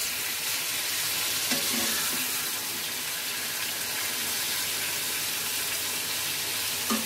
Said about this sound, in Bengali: টমেটোগুলো হালকা হালকা ভাজা হয়েছে